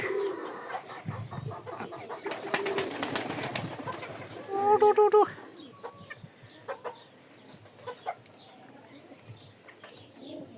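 Pigeons waiting at a feeder coo and rustle close by, with a burst of wing flapping and scattered soft calls and clucks in a quiet setting.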